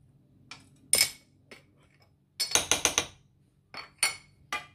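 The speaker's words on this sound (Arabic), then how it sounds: "غادي نحركو مزيان مع بعضهم باش نذوبو هاد النشا هادي" A utensil clinks against a glass or metal bowl while milk is stirred with sugar and starch, in short bursts of rapid tapping separated by quiet pauses.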